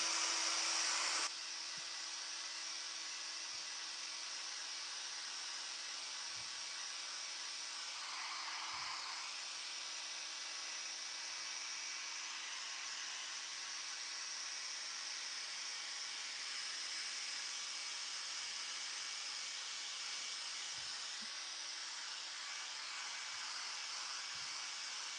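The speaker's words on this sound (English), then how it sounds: "So get the hairdryer out again." A hair dryer blows steadily with a constant whooshing hiss and motor hum, close and unbroken throughout, with faint background noises underneath.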